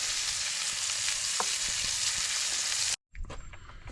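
A steak cooking low and slow in a pan at a Christmas cookout sizzles in a steady, even hiss that breaks off abruptly, then returns more quietly with faint clatter.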